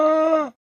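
A llama gives a single drawn-out, harmonic groaning call lasting about half a second, loud and close, then cuts off into silence.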